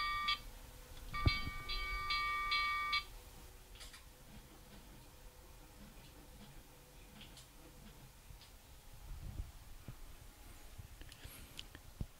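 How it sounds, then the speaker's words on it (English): A Palstar DWM2 digital reflectometer, or wattmeter, sounds its SWR alarm during an RTTY transmission: a short, steady electronic chime of stacked tones lasting about two seconds near the start, followed by quiet room hiss. "we also got the chiming sound of the alarm as well"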